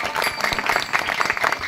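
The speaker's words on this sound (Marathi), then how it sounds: "सर्वात जोरात टाळ्या ह्या दोघांसाठी" Audience applause at a kirtan during an Akhand Harinam Saptah in Mainda village: a dense, steady burst of many hands clapping, fairly loud and sustained without a break for under two seconds.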